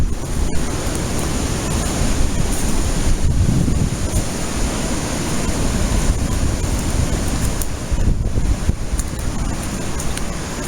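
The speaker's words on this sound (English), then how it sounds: "I can stand here and there's a breeze" Outdoor wind blows steadily across an open spot near beehives, a constant broadband rush with buffeting gusts against the microphone throughout, close and fairly loud, with no voices.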